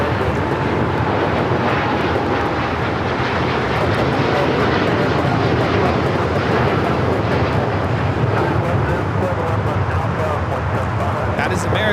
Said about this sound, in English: 27 taking off to Tokyo Haneda on the 787-9 Dreamliner